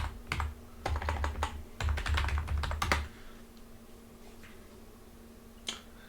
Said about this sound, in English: Would help if I typed the password correctly.